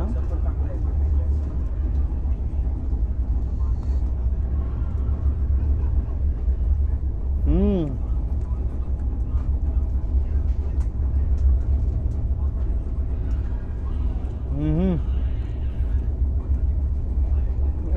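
Mandovi Express train in motion, heard from inside the coach as a steady low rumble throughout, with two brief horn-like tones rising above it and occasional voices.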